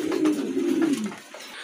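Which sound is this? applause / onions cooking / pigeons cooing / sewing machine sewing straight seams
pigeons cooing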